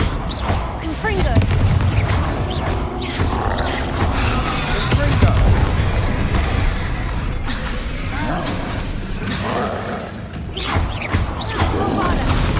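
Continuous loud combat noise from a Hogwarts Legacy troll fight where the Confringo fire curse is cast, with crashing blasts and rumbling impacts running throughout.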